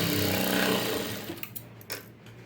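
A sewing machine stitches the front part of a garment, its motor running in a loud continuous whir at close range that winds down and stops, followed by a few brief handling clicks and taps.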